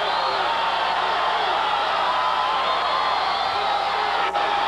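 A subdued Fresno State football crowd in the end zone at a 1989 game against San Jose State, a steady broad wash of distant cheering and murmur with no clear peaks.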